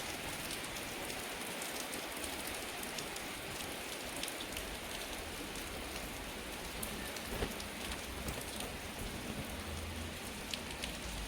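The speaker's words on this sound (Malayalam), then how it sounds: "നമ്മുടെ ഇടുക്കി ജില്ലയിൽ ഭയങ്കരമായിട്ട് മഴ പെയ്തുകൊണ്ടിരിക്കുകയാണ്" Heavy rain pours steadily in the Idukki district of Kerala, a dense, continuous hiss of drops on surfaces that holds at an even level throughout, with no voices.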